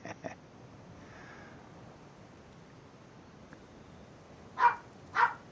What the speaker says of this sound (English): there's no video of mine that would not be complete without dogs